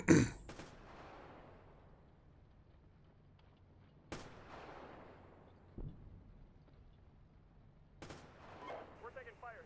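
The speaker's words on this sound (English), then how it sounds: "We're taking fire here." In the tank simulator game Steel Beasts Pro PE, gunfire strikes a vehicle as several sharp, distant-sounding impacts spaced seconds apart, each trailing off in a rumble, with faint voices between them.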